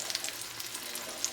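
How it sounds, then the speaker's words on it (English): Faint, steady crackling and hissing of breaded chicken frying in a pan, with small pops scattered throughout and no voices. "And this is still doing a really good sizzle."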